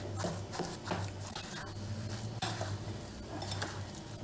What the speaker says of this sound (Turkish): güzelce karıştıracağım. Elimle de yoğuracağım.